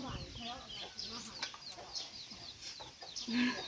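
Chickens cluck in short, scattered bursts outdoors, fairly close but quiet, with a sharper call near the end.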